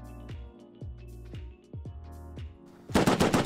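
Gunfire in the video game Rust: a string of loud, sharp single shots at uneven intervals, then a dense rapid burst at the end, all close and without talk.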